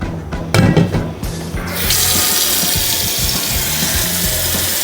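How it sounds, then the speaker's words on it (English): Tap water runs into a cooking pot while making borscht, starting after a few clunks and continuing as a steady, loud rushing stream close by. "put some water here."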